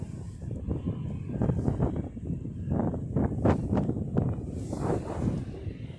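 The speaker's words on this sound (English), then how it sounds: "it sounds like one of those 777 planes" A Boeing 777 jet taxiing at an airport gives off a low, rumbling engine roar with gusty swells, heard at some distance, steady for several seconds with wind buffeting the microphone.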